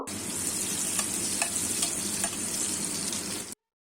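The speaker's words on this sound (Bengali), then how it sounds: "দিয়ে ফোড়নটাকে সামান্য অল্প একটু ভেজে নেব" Nigella seeds and four slit green chillies sizzle in hot oil as a tempering for a Bengali ridge gourd, potato and poppy seed dish, a steady close-up frying hiss that cuts off abruptly after about three and a half seconds.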